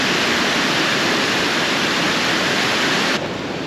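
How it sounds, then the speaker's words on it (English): A waterfall at Lake Como, a steady broadband rush of falling water, loud and close, with no voices. "Look at that for a waterfall."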